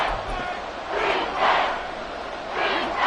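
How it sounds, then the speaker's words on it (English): Stadium crowd in the video game Madden 24, roaring loudly at a football game: a dense, steady wall of cheering that swells in waves and stays loud throughout. "This crowd trying to force a false start here."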